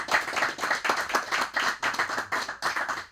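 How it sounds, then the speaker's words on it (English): A round of audience applause at a live show, brisk many-handed clapping that rises and dips in waves over a few seconds, fairly close and loud. "let's everybody give a round of applause"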